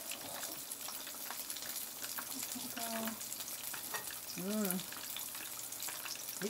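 Breaded onion rings deep frying in hot oil give a steady, fairly quiet bubbling sizzle throughout, with a brief voice-like tone rising over it midway.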